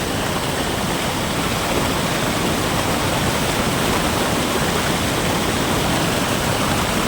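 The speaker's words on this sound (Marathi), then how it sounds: "आवाज पाण्याचा किती येतोय बघा" Loud, steady rushing water at a river fishing spot at Goregaon in Raigad, Konkan, a continuous broadband roar that stays close and unbroken throughout, with no voices.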